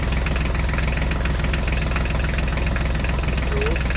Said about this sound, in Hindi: तो अब हमारा महिंद्रा ट्रैक्टर ब्रिज चढ़ता हुए आ रहा है